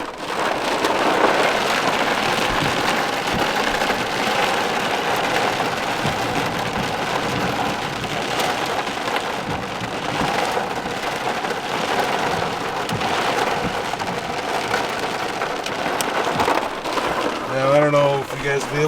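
Heavy thunderstorm rain, with a little hail, drums hard and steadily outside a camping truck, with low thunder rumbling in the background and a person speaking over the downpour.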